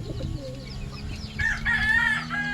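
Young chicks of a Taiwan-bred line peeping and cheeping in a small coop, high thin calls repeating close by and growing louder in the second half, with no talk.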